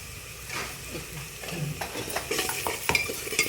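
Onion-garlic masala mixture stirred in a pan, a steady sizzle with a spoon scraping and clinking against the pan, close and fairly loud.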